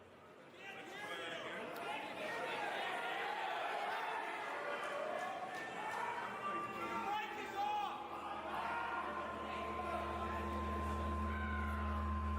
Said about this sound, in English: the crowd noise is so loud.